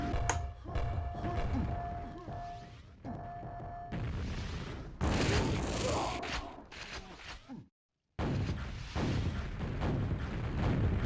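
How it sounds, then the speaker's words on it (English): Rocket launcher blasts in a Quake duel match, several booming thuds and explosions amid in-game action, with a brief dropout before the fighting resumes. "that's a nice rocket from LuGia"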